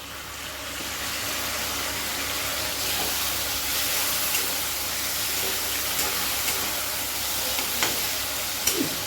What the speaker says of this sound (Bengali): এখন আমি এর মধ্যে অল্প একটু সরষে বাটা, জিরা, 2 কোয়া রসুন